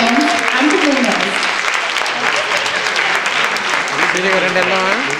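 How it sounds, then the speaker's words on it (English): Awards ceremony audience applauding participants and winners of a morning program: steady, dense clapping throughout, loud and continuous, with voices cheering and talking underneath. "give one more round of big applause for all the participants and the winners"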